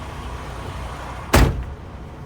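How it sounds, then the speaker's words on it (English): A truck door slams shut once, a loud close thud with a brief rattle, breaking a low idling engine hum that continues quietly afterward. "Close the door."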